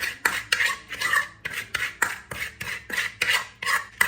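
Ukwa, African breadfruit porridge, being stirred in a pot: a close, rhythmic scraping and clinking of a spoon against the pot, about two strokes a second, loud and steady with no talking.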